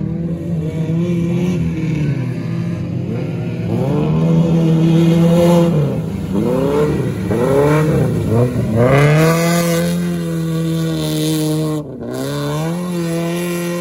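Off-road race cars in an Ossetian mountain race accelerate hard and rev loudly close by, engine pitch sweeping up and down repeatedly as gears change, with a steady drone throughout and no talking.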